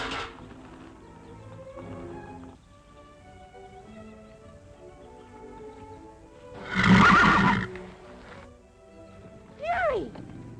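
Horses neigh and whinny during a horse fight, with loud shrill calls at the start, a strong burst around the middle and a final rising whinny near the end, separated by quieter stretches.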